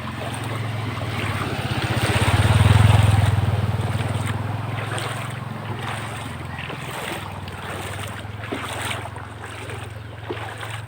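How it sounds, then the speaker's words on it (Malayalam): Vehicles push through flood water on a street lined with flooded shops during the 2021 Chennai flood: a low engine rumble swells and fades over a few seconds, then a steady wash of water and wind continues. "അവിടുന്ന് വരുന്ന വണ്ടിയോളെ ശ്രദ്ധിച്ചോ."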